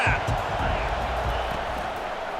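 A virtual stadium crowd in the College Football 25 video game at an esports championship sends up a steady, broad roar of cheering that runs throughout, with a commentator talking over it.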